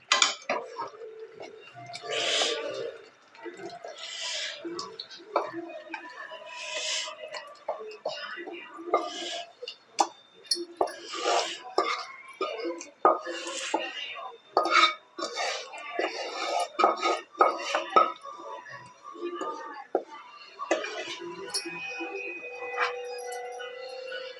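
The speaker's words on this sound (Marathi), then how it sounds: "गॅस बंद करूया भाजी बाउलमध्ये काढून घेऊया" Butter paneer curry is scooped from a pan into a bowl, with repeated spoon scrapes and clinks against metal and ceramic, irregular and close, under intermittent talking.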